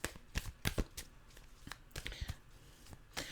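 A deck of tarot cards being shuffled in repeated quick riffles and slaps, a series of crisp papery bursts at close range, with no talking.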